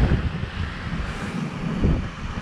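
Strong, gusty wind at Yyteri sand beach in Finland buffets the microphone with a steady low roar that swells and eases, and water washes faintly in the background.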